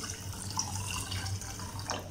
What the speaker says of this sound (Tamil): ஸோ இப்போ தண்ணியும் பார்த்திங்கன்னா இதே டம்ளருக்கு 4 டம்ளர் அளவு தண்ணி சேர்க்கணும்